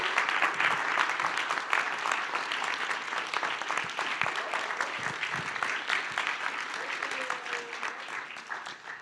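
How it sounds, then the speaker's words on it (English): Applause for Andrea at a privacy conference session in a meeting hall, a sustained crowd clapping of moderate, even loudness with faint murmuring beneath. "a lot of applause goes to Andrea"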